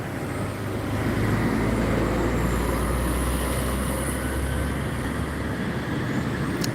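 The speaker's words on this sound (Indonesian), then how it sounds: "Ada bus Sinar Jaya, Jet Bus 5 Sleeper." A Sinar Jaya Jetbus 5 sleeper coach rolls past in steady traffic, its low engine rumble and tyre roar holding loud and continuous, with other road noise around it and no talking.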